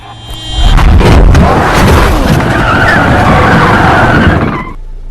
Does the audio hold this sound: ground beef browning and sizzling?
no